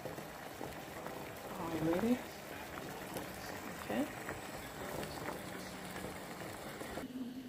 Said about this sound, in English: Also, I got my eggs boiling